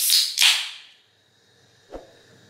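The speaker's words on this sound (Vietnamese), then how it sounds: "ta có thể là bắt đầu khui bia" A beer can is opened with two sharp, close hissing bursts in quick succession. A quiet pause follows, then a single faint click, with no voices.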